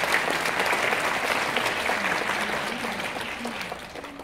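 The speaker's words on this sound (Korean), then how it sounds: "한 박수 부탁드립니다." Audience applause fills a hall at the Suwon taekwondo demonstration team festival, held in the Suwon Youth Culture Center's Onnuri Art Hall: a steady, dense clapping that holds for about four seconds and eases slightly at the end.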